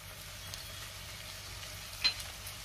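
Onion being sautéed in a pan with ginger and garlic for pav bhaji gives a faint, steady sizzle with a soft stirring knock near the end, heard alone.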